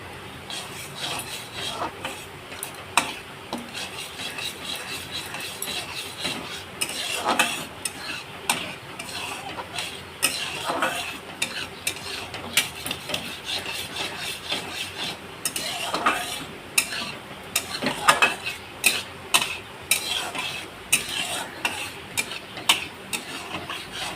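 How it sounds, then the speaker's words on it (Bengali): Sugar melting into caramel in a pan is stirred gently, with a soft bubbling sizzle and light scraping and clinks of the utensil against the pan, close and fairly quiet throughout. "আমি এইভাবে একটু আলতো হাতে এইভাবে চিনিটাকে একটুখানি এইভাবে গলিয়ে নেব"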